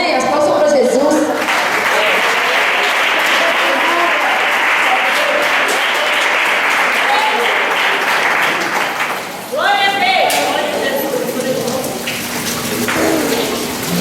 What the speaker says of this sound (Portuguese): As palmas para Jesus.